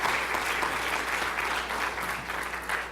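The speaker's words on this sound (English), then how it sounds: "let's give the speakers another round of applause" Sustained applause from a conference audience after a morning session of talks at a cancer center meeting, dense and steady clapping throughout at moderate loudness with no voices on top.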